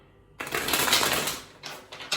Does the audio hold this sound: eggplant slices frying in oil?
no